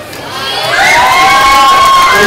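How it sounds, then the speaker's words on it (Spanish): A crowd at an outdoor patron saint festival for San Judas Tadeo gives a rising burst of cheering and clapping with shouting voices that swells quickly and stays loud to the end. "Nos ayudan los aplausos"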